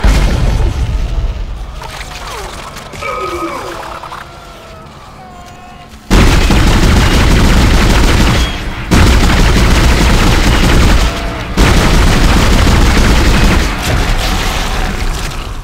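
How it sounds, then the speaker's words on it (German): Heavy weapon fire in the video game Dead Space, sustained loud booming blasts with short breaks, after a quieter stretch of game sounds with tonal effects. "die schießen auch Raketen oder was?"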